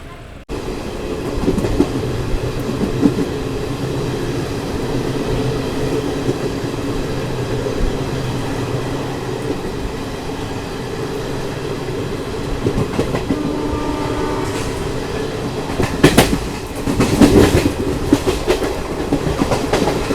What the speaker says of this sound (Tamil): நம்மளோட ட்ரெயின் இப்போ பார்த்தீங்கன்னா தருமபுரியிலேருந்து ஒசூர் நோக்கி போய்கிட்டு இருக்குங்க.